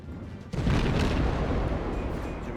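A warship's main guns fire high explosive shells in the World of Warships video game, one sudden heavy boom followed by a long rolling rumble that fills the rest of the clip.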